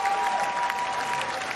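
Crowd applause at the canoe-kayak sprint world championships finals: steady, dense clapping from a large audience, moderately loud and continuous throughout.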